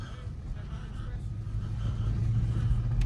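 A truck rumbles past on a snowy road during a blizzard, a low engine drone swelling closer and louder over a few seconds while someone talks over it.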